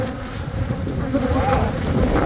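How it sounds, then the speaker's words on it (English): Angry bees swarm and buzz steadily around a furry object they are attacking and stinging, a dense close drone that holds for the whole stretch while faint voices murmur in the background. "we're trying to show how these bees attack furry things"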